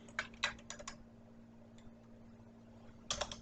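Someone types an R package install command on a computer keyboard, with a quick cluster of close key clicks at the start, a quiet pause, then a short final burst of keystrokes.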